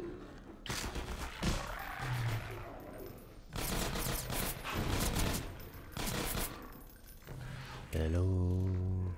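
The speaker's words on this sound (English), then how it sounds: "She hears turrets." Rapid turret gunfire bursts out in Half-Life 2 Episode 1, loud and repeated in several sharp volleys with scattered clanks and thuds between them, and a brief voice near the end.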